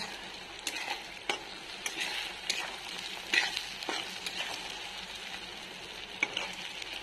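Pork meat fries with ginger spice paste in a pan, giving a soft steady sizzle broken every second or so by sharp scraping stir strokes. The strokes are close and rhythmic, and no one speaks.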